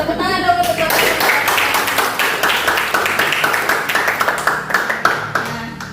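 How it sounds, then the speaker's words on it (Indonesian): A group in a classroom claps for a man who has volunteered, a steady patter of hand claps running for several seconds, with a voice speaking briefly at the start. "tepuk tangan dong untuk bapak"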